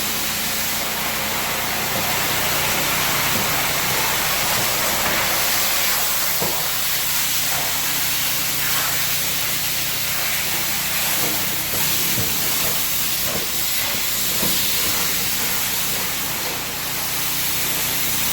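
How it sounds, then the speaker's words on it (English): A tile and grout cleaning machine extracts and rinses a floor, a loud, continuous hiss and roar of suction and spray, steady throughout with faint scraping underneath. "so now we're doing the extraction and rinsing process."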